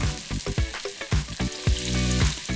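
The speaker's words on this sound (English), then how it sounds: "prawn goes straight into that hot oil" Battered prawns drop into hot oil and deep-fry with a dense, steady bubbling hiss, punctuated by a series of sharp knocks and clanks from a utensil or the pan. No one speaks.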